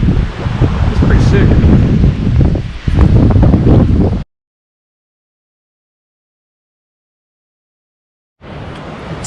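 Strong wind on the Lost Coast Trail on a cold, wet, cloudy day, a loud roaring buffet against the microphone that cuts out to silence midway and returns at the end.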